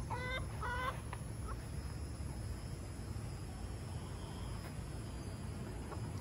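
Chickens and a rooster around a henhouse, with a brief burst of clucking calls near the start followed by scattered faint clucks over a steady background hum.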